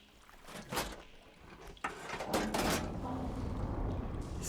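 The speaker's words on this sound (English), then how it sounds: "Sounds like the water's switched." Machinery switching water flow in Horizon Forbidden West: a couple of clunking mechanical shifts followed by a sustained rushing, gurgling water sound, moderately loud and close, with a voice speaking over it.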